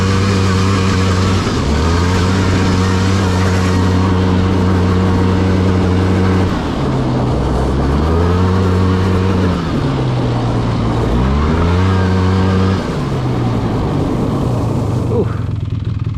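Utility quad with a 400 two-stroke engine revving and running close by, loud throttle blips rising and falling in repeated bursts over a constant rough idle, for a long stretch.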